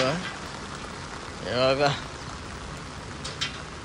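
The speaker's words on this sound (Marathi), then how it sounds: "काय जाम पाऊस पडते" Heavy monsoon rain pours outside a home, a dense, steady hiss throughout, while a person speaks briefly over it.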